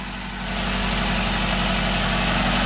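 Tofaş Doğan car engine idling right after its first start in two and a half months, a steady close rumbling idle that swells slightly in the first half second and then holds evenly, with no talk.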